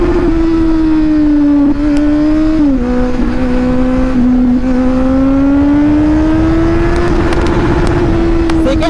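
A Kawasaki Z900 motorcycle pulls hard at full throttle, its loud, close engine wail climbing steadily through the gears with brief dips at each shift, continuous and dominant throughout.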